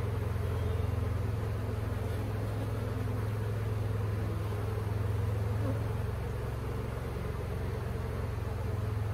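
A dense, steady hum of honey bees buzzing fills the air throughout as a colony is transferred into a Layens hive, with no talk.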